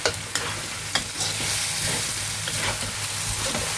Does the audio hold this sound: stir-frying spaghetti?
yes